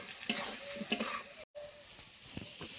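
Grated ginger, green chilli and a little chilli powder stirred and sautéed with taro in a pan, giving a soft sizzle with close, intermittent scraping and clanking, broken by a brief silent gap.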